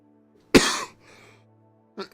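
A single sharp, close cough, followed by a softer breathy rasp and a brief second cough moments later.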